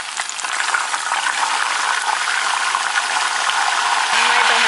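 Salt water sprinkled over taro root chips frying in hot oil, giving a dense, loud, continuous hissing crackle that swells slightly toward the end.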